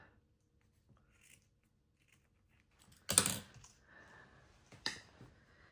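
Scissors cut through a piece of frayed grosgrain ribbon at a crafting table, one sharp crisp snip followed by a second smaller snip and light handling rustle in an otherwise quiet room.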